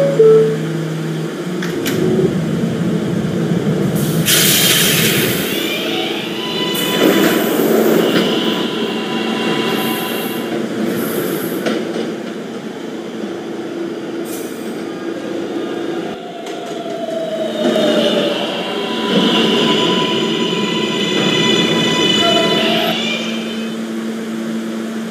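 An R143 subway train runs along the D line in a Roblox game, with a loud, steady rumble of wheels and motors throughout, brief squeals and tonal whines rising and falling, and no one talking.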